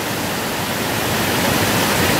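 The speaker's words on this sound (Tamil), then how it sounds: "இந்த ஆறு தான் போய் திருப்பரப்பு வாட்டர் ஃபால்ஸா விழுதுங்க" A clear, fast river near Pechiparai Dam in Kanyakumari, flowing on toward a waterfall, rushes steadily with a broad, close hiss of moving water and no voices.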